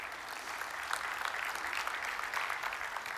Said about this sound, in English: a round of applause for our sponsors once more.